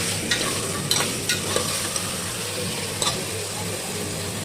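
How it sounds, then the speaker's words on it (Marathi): Washed chicken gets stirred with ginger-garlic paste in a pressure-cooker pot for chicken yakhni pulao, giving a steady frying sizzle with occasional spoon scrapes against the metal and no speech. "याला व्यवस्थित एकजीव करून घेऊया।"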